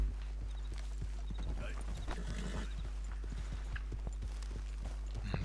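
Horse hooves clip-clop in a steady walking rhythm in the video game Red Dead Redemption 2, clear and close over a constant low background hum.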